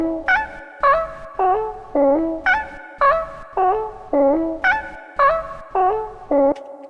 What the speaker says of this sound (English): So I put an arpeggiator. This is stock arpeggiator from Ableton.